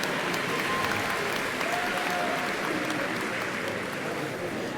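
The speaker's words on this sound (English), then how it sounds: "we could applaud" A large crowd claps steadily and continuously at a college spring commencement ceremony in a convocation center, a dense, even wash of applause with faint voices mixed in.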